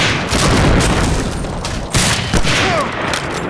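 A grenade detonates in Medal of Honor: Allied Assault during a competitive sniper league match, heard as loud booming blasts over dense gunfire and battle noise.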